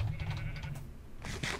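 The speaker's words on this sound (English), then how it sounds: "I need to shear your sheep." Sheep bleating in the Minecraft video game, a few short wavering bleats in succession, fairly close and clear.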